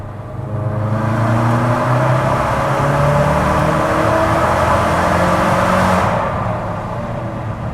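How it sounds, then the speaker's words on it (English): A Ford Focus RS engine revs hard in third gear from 3,000 rpm and climbs steadily in pitch as it accelerates, a loud, rising exhaust roar that fades off after several seconds. "Do you want to hear some exhaust? Yeah, let's do some exhaust."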